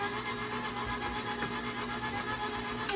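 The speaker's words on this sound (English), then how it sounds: "Scrape down again." Vanilla bean buttermilk pound cake batter being scraped down in a bowl, a continuous close rubbing and scraping with no pauses.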